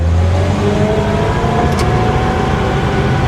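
The straight-eight engine of a 1953 Pontiac Chieftain drones steadily up close, revving in first gear with a continuous rough hum throughout.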